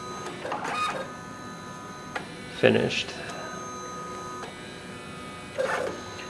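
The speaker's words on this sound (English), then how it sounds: "Now I'll just let this print run until it's" MakiBox A6 3D printer running its first print, its stepper motors whirring and whining in short bursts between quieter hums, close by, with a voice speaking briefly.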